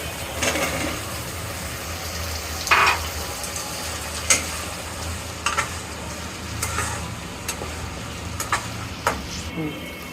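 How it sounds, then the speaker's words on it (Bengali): Potatoes going into a pan of browned spice masala for a Bengali fish curry with pui shaak, a soft continuous sizzle with scattered sharp scraping and clinking strokes of a stirring spoon, close and moderately loud. "এটা মশলাটা কষানো হয়ে গেছে, এখন আমরা দিয়ে দিব আলু।"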